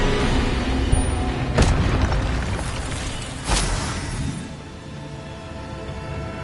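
An Incendio fire spell cast in the video game Hogwarts Legacy, heard as a loud, dense roaring rush with two sharp booming bursts, then a lower rumble that fades a little toward the end.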